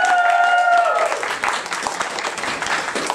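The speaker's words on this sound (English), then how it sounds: "One more round of applause for Al." Audience applause at a Pokémon game show held at the Anime-Zing 2016 convention, a dense steady patter of many hands that starts over a brief sustained tone and carries on loudly throughout.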